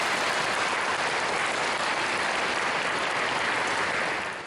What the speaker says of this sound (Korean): 다시 한번 큰 박수로 따뜻하게 환영해 주시기 바랍니다